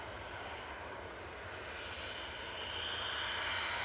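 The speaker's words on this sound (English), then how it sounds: "TUI over the threshold now" A TUI passenger jet crosses the runway threshold landing at Manchester Airport, its steady engine roar filling the air and swelling slightly louder toward the end, with no voices.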